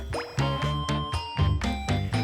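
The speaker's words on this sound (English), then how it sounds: "Now it's time to pour in the alcohol." Alcohol pouring into a glass jar of plums layered with rock sugar, a gurgling liquid stream in several close, uneven glugs.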